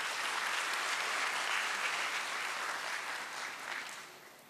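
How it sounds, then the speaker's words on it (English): Steady applause from delegates at a capital markets conference fills the room for several seconds, dense and even, tapering slightly at the end, with no talking over it. "I urge all delegates to offer a big round of applause to Sri Rajiv Agarwal ji."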